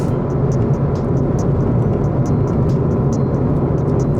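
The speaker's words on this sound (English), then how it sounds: "Roads can be quite a bit noisy and a little bit rough." Road noise inside a car driving a rough road between Auckland and New Plymouth in New Zealand, windows closed: a constant, loud low rumble of tires and engine with faint rattles and ticks on top.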